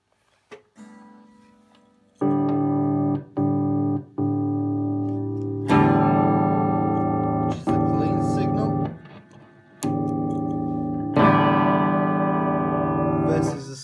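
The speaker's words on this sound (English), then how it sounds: "it does work quite nicely as a little overdrive pedal" An electric guitar plays sustained chords through an overdrive pedal, a mildly overdriven, slightly distorted tone, each chord ringing out before the next, loud and close.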